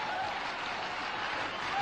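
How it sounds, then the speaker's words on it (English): A packed Indian cricket stadium roars and applauds a wicket from Manoj Prabhakar: a continuous, dense wall of clapping and cheering from a large crowd at steady, full volume. "The crowd electrified."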